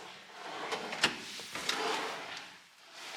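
Kitchen drawers in an empty apartment being opened and closed, giving a few woody slides and knocks with one sharper bump near the middle, moderately close in a bare room.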